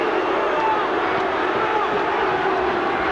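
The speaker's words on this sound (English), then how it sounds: "The crowd, well, they don't like it." A rugby crowd at an Auckland versus Australia match reacts after a try is ruled out, a broad, steady wash of distant murmuring and jeering from the stands with no distinct peaks.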